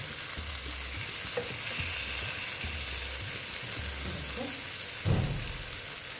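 Eggplant sautéing with spices in a pan gives a steady close sizzle, with repeated scraping stirs and a louder clatter near the end.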